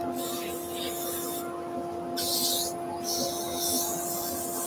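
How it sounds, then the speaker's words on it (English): Wood sanding on a lathe at under 700 rpm on a wooden acorn box with a threaded lid, with a steady hum from the spinning lathe and abrasive rasping that rises and falls in bursts, alone and close. "Under 700 is a good sanding speed."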